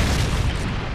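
A missile explosion in a combat video game, a loud, dense low rumbling boom that fills the whole moment without a break.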